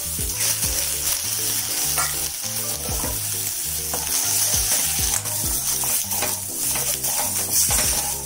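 Sliced boiled eggs fry in a pan of oil on a low flame while being stirred for restaurant-style egg biryani, giving a steady close sizzle with rhythmic clinks of a spoon against the pan throughout.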